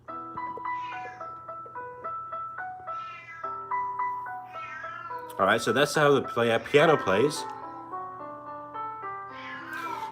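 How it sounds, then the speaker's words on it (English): A pet cat meows repeatedly, in short high cries that ring out over steady piano playing, with someone talking between the notes. "can you hear my cat?"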